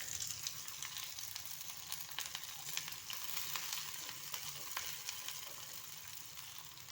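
Medium onion sizzles in hot mustard oil in a kadai, a soft continuous frying hiss with faint crackles, fairly quiet and steady.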